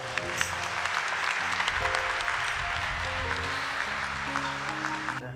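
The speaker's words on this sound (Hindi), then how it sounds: "हम पूरे कलीसिया में इनका स्वागत करते हुए जोरदार ताली बजाएंगे" Loud, steady applause from a large church congregation at a Christian wedding fills the space continuously, with dense clapping throughout.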